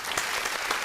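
Brief burst of applause from an audience, fairly faint, a dense patter of clapping hands with no voices over it.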